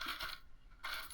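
Dollar coins dropping into a container, two bright metallic clinking bursts separated by a brief pause, close and clear with no talking.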